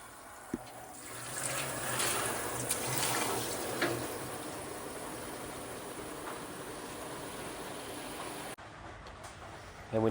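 Forty litres of strike water pour steadily into a brewing system with a continuous rushing, splashing flow that cuts off near the end, followed by a faint knock.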